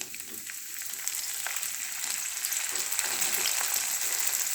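Capsicum sizzles in hot ghee in a wok, a bright crackling frying hiss that builds slightly louder as it goes, with occasional faint stirring clicks and no talking.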